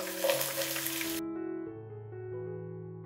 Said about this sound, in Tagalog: Isunod ko na po ilagay yung ating sibuyas.